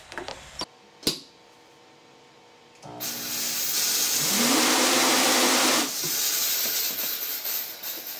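Airflow from a pneumatic hand dryer. A couple of sharp clicks sound over near silence, then a loud rushing hiss starts up with a wavering, oscillating tone inside it, drops back and continues more unevenly.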